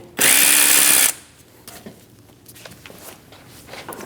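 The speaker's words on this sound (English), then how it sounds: "We're going to remove our negative cable from our battery using a 10mm socket." A power driver with a 10mm socket whirs loudly for about a second to loosen battery cable nuts on a 2005-2009 Subaru Legacy, followed by quiet clicks and handling of the tool.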